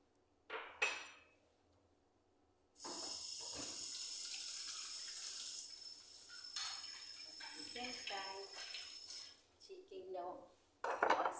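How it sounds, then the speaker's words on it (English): Dishes washed at a kitchen sink under a running tap: a steady hiss of flowing water with clinking plates, pots and cutlery, plus a few sharp clatters before and after the water runs. "washing the dishes."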